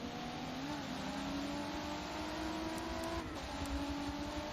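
A race car engine drones steadily on the track, a sustained mid-level roar with a faint pitch shift partway through, heard alone without talk.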